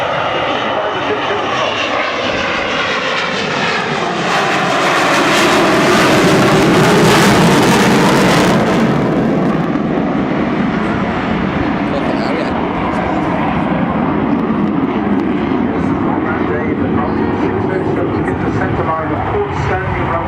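An Avro Vulcan bomber flies at the Southport Airshow in 2011, its jet engines a loud, continuous roar that swells and then holds steady as the aircraft passes.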